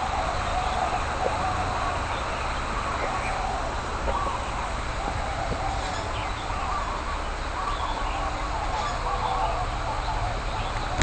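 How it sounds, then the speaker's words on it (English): Many birds in a large aviary at an ocean-side theme park make a dense, continuous wash of chirps, calls and squawks, with steady crowd-like background noise throughout. "There's just a ton of birds flying around here."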